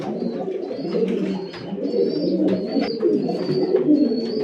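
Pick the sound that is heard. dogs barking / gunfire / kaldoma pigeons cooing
kaldoma pigeons cooing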